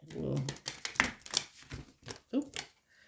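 A deck of tarot-style cards is shuffled quietly up close, giving irregular soft riffles and taps, with faint voice sounds between them.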